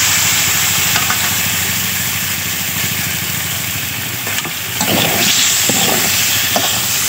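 Boiled potatoes drop into a pan of spice mix frying in a home kitchen, giving a steady, close hiss and sizzle that swells briefly near the end.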